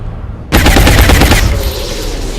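Rapid automatic gunfire in the XCOM Enemy Within video game, a loud burst starting abruptly and rattling for about a second before fading into a lingering echo.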